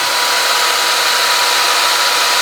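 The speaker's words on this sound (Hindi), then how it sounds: "तो चलो भाई अभी चलाते हैं ड्रिल" An electric drill runs as a test load on a Deye hybrid inverter. Its loud, steady motor whine continues unbroken throughout, with no talk.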